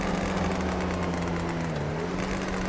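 A modded Bugatti Veyron Super Sport engine in GTA 5 drones loudly and steadily, a sustained close engine note that wavers slightly in pitch through the short clip.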